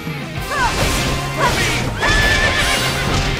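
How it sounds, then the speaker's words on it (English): Horse whinnies in the video game Fire Emblem Warriors, a few neighs over a busy battle mix with crashing impacts and hoof-like clatter, loud and close. "Got kicked in the face by a horse."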